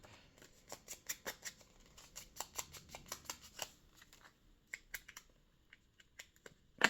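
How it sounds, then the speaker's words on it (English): Scissors snipping the corners of craft paper for a Christmas envelope gift bag, a run of quick small close cuts with short pauses between them, crisp and fairly quiet. "Round my corners just a little bit with my scissors"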